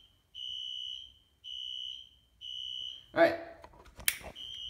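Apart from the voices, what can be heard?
Wheelock Exceeder fire alarm sounding in code 3 pattern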